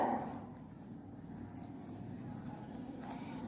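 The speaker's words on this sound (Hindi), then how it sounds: "पेंसिल से हम इसका जवाब लिखेंगे" Pencil writing out an answer on paper in a classroom lesson, a soft continuous scratching and rubbing held close and fairly quiet, steady for the whole stretch with no talk over it.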